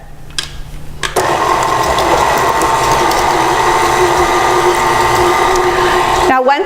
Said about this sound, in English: We're gonna start the mixer on low just to get everything incorporated.